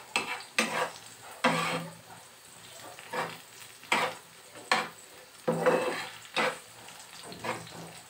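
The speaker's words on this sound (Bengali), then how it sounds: "এইবার সব কিছু নেড়েচেড়ে মিশিয়ে পেঁয়াজ রসুন আর মশলাগুলো একটু ভালো করে 2-1 মিনিট কষিয়ে নিব।" Onion, garlic and spices sizzle in a pan as a utensil stirs them in repeated scraping strokes, each push bringing a short burst of frying that fades between strokes.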